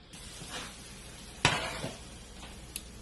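Salad vegetables and green leafy veggies stir-frying in a pan, a steady soft sizzle with a few stirring scrapes and one sharp clatter of utensil against pan midway.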